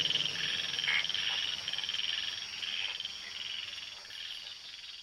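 Frogs croak in the Dihing Patkai rainforest, a dense, rhythmic, pulsing chorus that continues throughout with faint insect chirps behind it.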